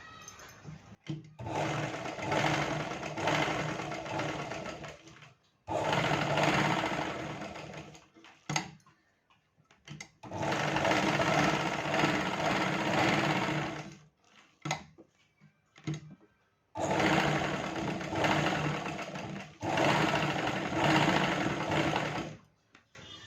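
An electric sewing machine stitches a blouse in several long, loud whirring runs of a few seconds each, separated by short pauses and brief bursts, close up with no talk.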